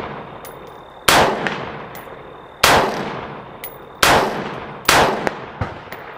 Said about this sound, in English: this is Winchester ammo. 100 yard steels with the 45.